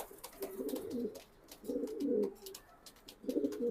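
Racing pigeons from good bloodlines, a male and a female, coo softly in three repeated phrases at close range, with faint chirps and no talk.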